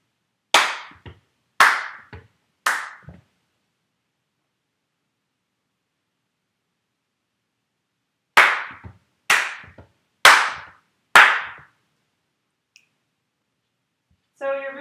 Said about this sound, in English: you clap at the same time that you're kicking your leg out